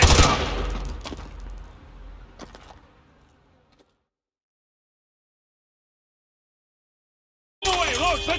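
Gunfire in Call of Duty Modern Warfare 2 Remastered, a dense burst of shots at the start that fades out, then silence before noisy game action returns.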